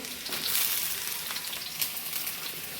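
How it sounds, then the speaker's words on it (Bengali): Potatoes and pointed gourd fry in oil in a pan, giving a steady, close sizzling hiss that swells slightly early on, with a soft stir or crackle near the end and no voices. "আলুটা হালকা ভাজা হয়েছে এবার পটলটা দেবো কারণ পটলটা ভাজতেও সময় লাগবে"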